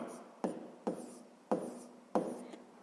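Handwritten notes for a fifth-grade maths exercise converting grams to kilograms: four scratchy pen strokes across paper, each starting with a sharp attack and trailing off, heard up close and alone.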